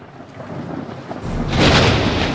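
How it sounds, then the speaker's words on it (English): A fierce thunderstorm over a lake, with a low rumble of thunder swelling into a loud, close roar over steady rain and wind. "a fierce storm came up, and they were afraid they were going to sink"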